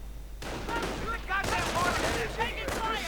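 Gunfire from a WWII real-time strategy game as MP40s, BARs and a machine gun emplacement clash, dense overlapping rifle and automatic bursts with ringing tonal effects, loud and continuous over a few seconds.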